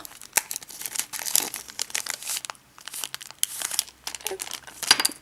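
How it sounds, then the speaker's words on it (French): A Pokémon card booster pack wrapper is torn open, giving bursts of close, crisp crinkling and tearing foil plastic in uneven bursts, with no voice. "Donc on va ouvrir le petit booster."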